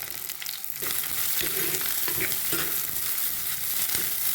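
Curry leaves dropped into hot oil for a fish curry with coconut pieces, a loud, close, crackling sizzle that runs continuously, with a few stirring knocks and no voices.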